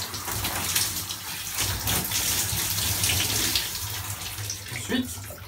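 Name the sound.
running water wetting a donkey before shampooing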